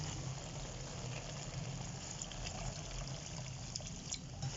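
Water goes into a pot of mixed vegetables cooking for a restaurant-style dish. The sound is a steady, dense rush of pouring and sizzling liquid that runs unbroken and fairly close throughout.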